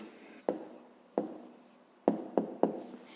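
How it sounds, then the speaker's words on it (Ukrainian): Pen or pencil writing an answer on paper, with five short strokes, each beginning sharply and trailing off, close and fairly quiet. "а зараз тоді записуємо відповідь"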